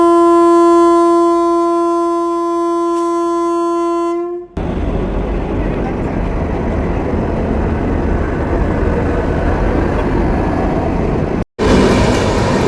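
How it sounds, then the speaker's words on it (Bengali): A Humsafar inaugural special passenger train from Jalpaiguri Road to Sealdah at Ranaghat Junction station sounds a long, loud, steady horn blast, then a roaring rumble of the train passing close by with no talk. "জলপাইগুড়ি রোড শিয়ালদহ হামসাফার উদ্বোধনী স্পেশাল ট্রেনকে অভ্যর্থনা জানানো হচ্ছে"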